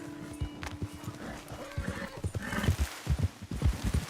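A wild horse's hooves clop in a quick, uneven rhythm with a faint neigh early on in a video game, moderately distant and low in level.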